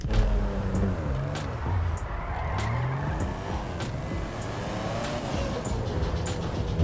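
A turbocharged BMW car engine in GTA 5, droning steadily at close range with revs rising and falling, a faint high whine over the engine and no voices.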